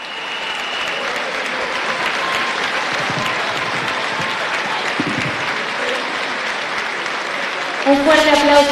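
Steady applause from an audience at an Argentine progressive political event celebrating 35 years of democracy, many hands clapping continuously, with a voice rising over it near the end.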